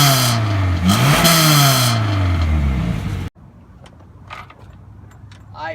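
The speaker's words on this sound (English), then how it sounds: "we're gonna go back to the first time that we did it when we first revved it" A 1996 Chevy Cavalier engine with its exhaust off revs loudly, climbing and falling in pitch through several throttle blips, then cuts abruptly to quiet clicks and faint handling noises.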